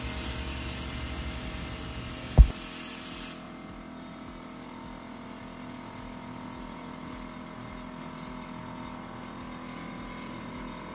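A drywall texture spray gun blasts mud onto a wall in a loud, close, hissing rush with one sharp knock, then cuts off, leaving a quieter steady hum of equipment behind.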